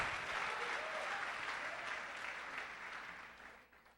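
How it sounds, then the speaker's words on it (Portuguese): A church congregation claps steadily at an evening worship service, a soft and distant wash of applause that thins out toward the end. "aplauda o Senhor"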